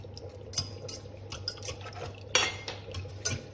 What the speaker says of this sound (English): I'm just get one of my smaller whisks to whisk this.